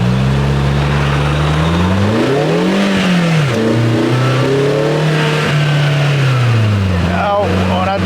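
A 2025 Polaris Slingshot 10th Anniversary with an automatic transmission revs hard as it tries to spin its wheels. The engine note is loud and close, repeatedly climbing and dropping in pitch.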